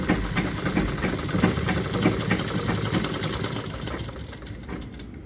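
A sewing machine stitches salwar fabric at close range, running as a fast, steady mechanical chatter of rapid needle strokes that slows slightly near the end, with no talk.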